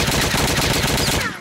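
Rapid, dense gunfire from a first-person shooter, Blade of Agony, fired at a lock, a continuous loud burst of shots lasting about a second and a half before cutting off.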